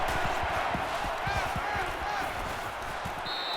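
Steady, dense stadium crowd roar from the NCAA 14 football video game, a South Carolina at LSU matchup, running continuously with small thumps and swells throughout and a brief tone near the end.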